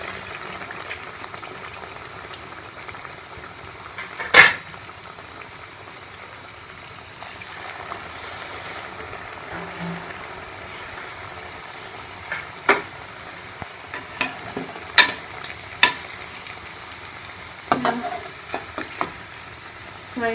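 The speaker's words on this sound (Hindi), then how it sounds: "खूबसूरत सा गोल्डन कलर आने तक इसको हम फ्राई कर लेंगे।" Kheema rolls fry in hot oil until golden, giving a steady close sizzle and bubbling throughout, with occasional sharp clinks and stirring scrapes from the pan.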